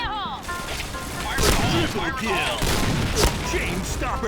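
Explosions and gunfire crackle through a round of the shooter game Point Blank, a sharp burst landing around the middle amid rapid shots, with someone talking excitedly over the game sounds.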